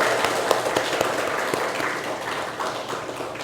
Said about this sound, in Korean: 한 분 한 분들을 우리 한번 서로 감사의 박수로 한번 서로 격려하도록 하겠습니다